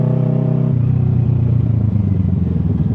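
A Kawasaki ER6 600cc two-cylinder motorcycle idles close by with a steady, throbbing low rumble that drops slightly in pitch after a moment, then settles into an even, loping beat with no talk.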